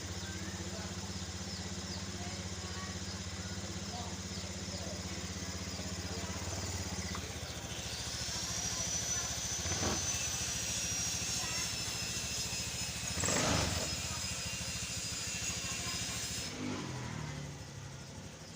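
A Honda Scoopy scooter with a fuel-injection fault code engine idling steadily nearby, with a faint whine and a couple of brief louder bursts partway through, no speech.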